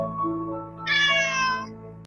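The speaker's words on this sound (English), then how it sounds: "There's a little black cat." A little black cat gives a single drawn-out meow, rising and bright in the middle, over a steady background hum from nearby.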